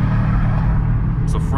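Steady city street traffic on a Friday in Queens, New York, with car engines rumbling loud and continuous close by, a passing vehicle swelling near the end.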